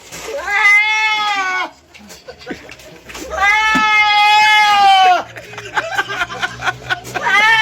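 A person's voice imitating a goat, letting out two long, wavering, nasal bleats separated by a short gap, loud and close.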